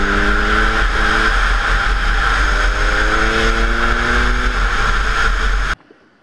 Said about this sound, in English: This is a two-stroke dirt bike that's legal to ride on the road